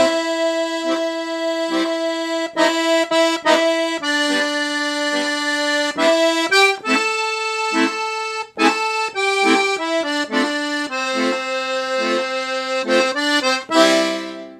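Piano accordion plays a rock and roll zydeco riff from a lesson, with sustained reedy chords and a steady bouncing rhythm, loud and close, no voices.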